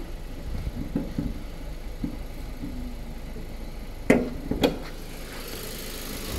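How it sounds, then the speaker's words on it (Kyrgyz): Renault Samsung SM6 with a GDI engine idling, a low, steady hum under a few light knocks and two sharper clicks partway through, heard close and alone. "GDI деген мотор экен."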